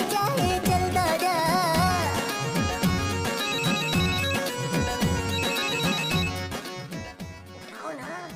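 A telephone ringtone plays continuously, a loud melodic electronic tune with steady repeating notes filling the clip before trailing off at the end.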